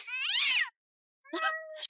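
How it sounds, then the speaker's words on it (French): A black cat meows twice, loud and close, with a brief silent gap between the drawn-out cries. "D'où vient ce chat noir dans la loge?"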